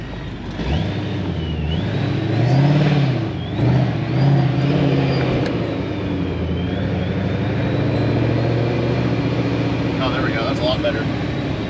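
A ProCharged 4.6L Aluminator engine idling after tuning: a steady, loud, low rumble with a high whine layered over it, running continuously, with someone talking over part of it.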